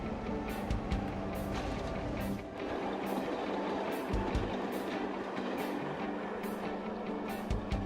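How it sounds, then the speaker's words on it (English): A crash-test train rake rolls steadily along the rails with a constant rumble and regular clicking as the wheels pass over rail joints. "The train then sets off and picks up the required speed"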